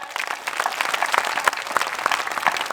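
An audience at the 2024 Adivasi tribal fair in Surkhai claps loudly and steadily, a dense, continuous wash of hand claps sustained from start to finish.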